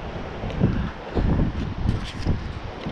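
Strong gusty wind at the shore buffets the microphone in steady low rumbling bursts, with no talk over it.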